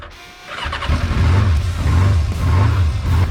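A slightly dirty Yamaha XJ 600 Diversion motorcycle cranks over and catches, settling into a loud, close, throbbing idle with an even rhythmic pulse.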